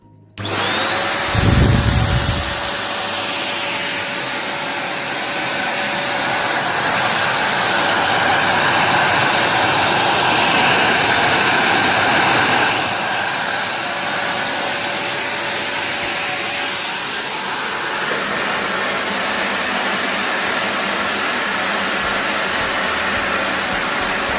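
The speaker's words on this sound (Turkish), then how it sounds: "Bildiğimiz klasik elektrikli süpürgelerden daha sessiz." An Altus Alesta AL 614 cordless stick vacuum cleaner runs with a steady, fairly quiet motor whine and airflow hiss, continuous throughout after a brief start.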